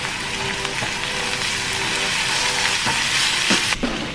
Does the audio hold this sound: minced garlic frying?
yes